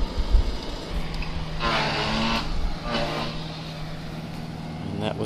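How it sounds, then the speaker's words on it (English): A malfunctioning lawnmower engine near the River Thames outside Oxford gives off rough, sputtering bursts of noise, two louder surges rising over a steady outdoor hum, with voices faintly in the background. "that was the sound of a lawnmower fucking up"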